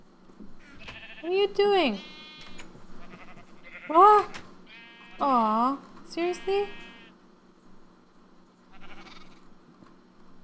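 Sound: sheep bleating in the video game Minecraft

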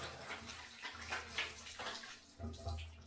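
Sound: water running into a bathtub for washing clothes

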